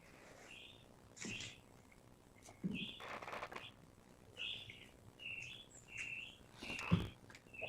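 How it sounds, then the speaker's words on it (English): A bird chirps repeatedly at a house, short bright calls spaced every second or so over a faint background, fairly quiet and alone. "I hear a bird at somebody's house."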